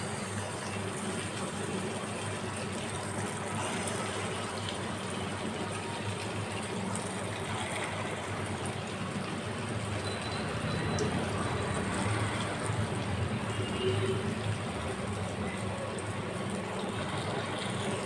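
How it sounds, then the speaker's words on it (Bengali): Lentil fritters for dahi vada are slipped one by one into hot oil and fry with a soft, constant crackling sizzle that holds steady and swells a little partway through. "তেলটা হয়ে গেছে, এবার আমি একে একে বড়াগুলো ছেড়ে দেবো।"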